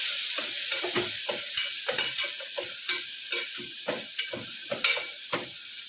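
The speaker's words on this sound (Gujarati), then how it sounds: "અને હલાવશું આપણે સારી રીતે" Steady sizzle of bottle gourd and potato curry frying with turmeric and garlic paste, a spoon scraping and stirring the pan in quick, repeated strokes, close by and without talk.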